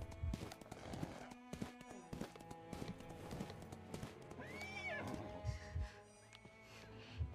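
A horse in the video game Genshin Impact, hooves clip-clopping throughout and a clear whinny rising midway, heard alone without talk.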